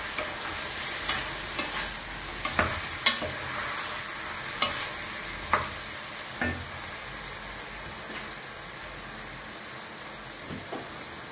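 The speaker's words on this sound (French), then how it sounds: "on tourne la tomate, les oignons, tous les légumes qu'on fait sauter" Tomato, onions and mixed vegetables sizzle in a pan as they are stir-fried, with a steady frying hiss broken by repeated scraping and clinking stirs of a utensil against the pan.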